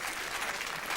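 Studio audience applause at a light entertainment show, a dense, even roar of many clapping hands that holds steady throughout.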